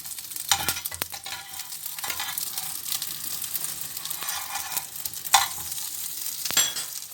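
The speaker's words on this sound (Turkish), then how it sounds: "şöyle tavanın içine birazcık yağ döktüm. Kofte çöreklerimizi koydum. Yavaş yavaş bunlar da burada pişiyorlar." Köfte buns crackling in a little oil in a pan, a soft steady sizzle broken by occasional scraping stirs and clinks.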